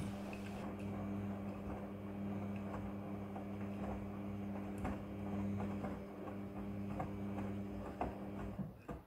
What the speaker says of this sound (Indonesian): Mesin cuci kemudian akan berputar dan proses mencuci dimulai.